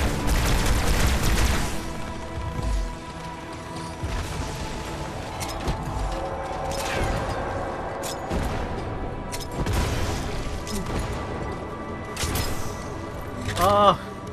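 Gunfire and rocket explosions from Halo 2 crackle and boom repeatedly in a chaotic firefight, with sharp bursts scattered throughout and a louder blast near the end, while a player talks over the action.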